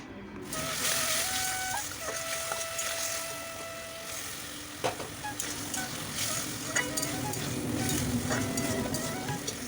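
Soybean and potato curry cooking in a pan, a steady low sizzle with occasional scraping stirs and light clinks of a spoon throughout, close and fairly quiet.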